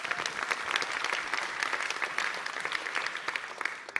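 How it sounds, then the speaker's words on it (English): An audience claps at a stage event, a dense, steady round of applause from many hands throughout. "Please give them a round of applause."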